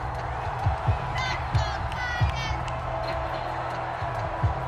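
A video game stadium crowd during a Titans versus Chiefs football match keeps up a steady roar with scattered cheers and whoops, while thudding impacts and commentary-like talk run over it.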